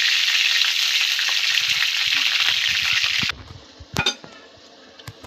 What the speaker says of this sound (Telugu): ఇప్పుడు కరివేపాకు కూడా ఫ్రై చేయాలండి.